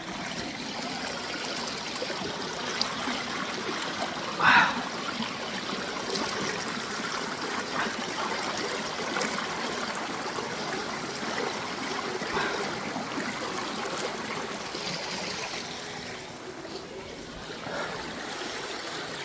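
A fresh mountain stream runs down through forest hills, its steady trickling and rushing water continuous throughout, with a brief louder splash partway and faint voices at times.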